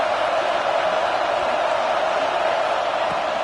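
Stadium crowd in the video game College Football 26, a dense, steady roar of many voices filling the space evenly, with no clear peaks.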